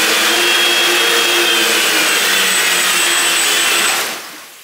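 A 1450 kV motor on a 3D printed jetboat runs at a loud, steady high-pitched whine, then winds down and falls quiet at the end.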